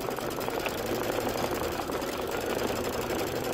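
An embroidery machine stitching a trapunto pineapple pouch, a fast continuous mechanical whir with a busy rapid needle pulse, steady and close, running alone without talk.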